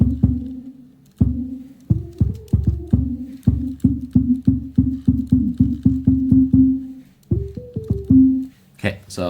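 A Teenage Engineering OP-1 synthesizer playing its cluster engine sounds a series of pulsing, throbbing low tones in a steady rhythmic run, loud and close, with a short pause before a few final pitched notes and a brief burst at the end.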